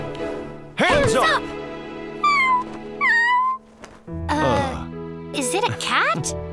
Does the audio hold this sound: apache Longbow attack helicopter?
no